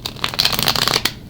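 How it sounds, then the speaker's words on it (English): Tarot cards being riffled and shuffled by hand, a quick burst of dense papery flutters and slaps lasting about a second, close and clear with no talking. "that was our last shuffle there"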